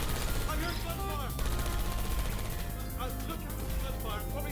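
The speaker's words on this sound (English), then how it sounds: "I heard gunfire!" Rapid bursts of Portal 2 game gunfire crackle through a dense, busy mix, with scattered shots and volleys continuing throughout over background effects.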